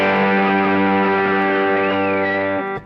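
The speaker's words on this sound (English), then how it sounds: "But for that, you need a lot more distortion" A Gibson Noel Gallagher NG-355 electric guitar rings out a single heavily distorted chord, loud and sustained with a thick buzzing tone, holding for nearly three seconds before being cut off.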